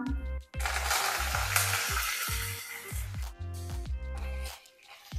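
Cumin seeds and curry leaves sizzle steadily in hot ghee and oil for a dhaba-style dal tadka, a loud, continuous frying hiss broken by a few brief dips, with low music underneath.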